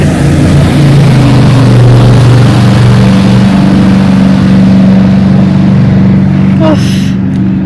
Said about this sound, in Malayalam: അപ്പോൾ നമുക്ക് ഒയ്യൂതേ ബോട്ട് പോകും ബോട്ട് പോകും